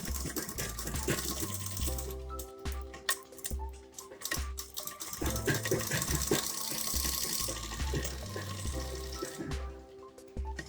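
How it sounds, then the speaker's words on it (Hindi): Sewing machine running in repeated bursts of rapid, steady stitching while a crop top is sewn, its motor hum starting and stopping close by with no talk over it. "अब इस पे ऐसे सिलाई लगा देंगे"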